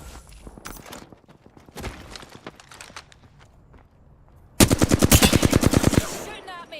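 Gunfire in an Apex Legends match: scattered single shots and footsteps at first, then a loud, rapid automatic burst of about a dozen evenly spaced shots lasting over a second.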